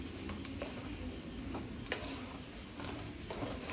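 A spoon stirs paneer upma with cashews in a pan, giving soft, irregular scraping and tapping clicks close by over quiet background noise.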